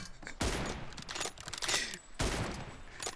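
Gunfire in the PUBG Mobile battle game: two loud, dense bursts of rapid shots, one near the start and another past the middle, with an echoing rumble between them and no talking.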